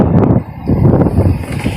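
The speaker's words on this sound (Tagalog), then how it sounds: "lakas ng hangin." Strong wind buffets the microphone in steady, rumbling gusts, loud and close, with a rustling, blustery texture throughout.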